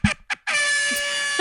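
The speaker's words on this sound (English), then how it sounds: "Had to insert the air horn there for that." Two short bursts lead into a long, loud blast of an air horn that blares steadily for about a second.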